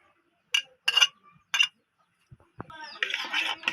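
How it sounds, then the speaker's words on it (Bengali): Eggs being mixed with chopped coriander, tomato and onion in a bowl: a few sharp metallic clinks of a utensil against the dish, then a quicker scraping, whisking patter, close and fairly quiet with no talking. "ভালো করে এগুলোকে মিক্স করে আমার মিক্স করা হয়ে গেছে"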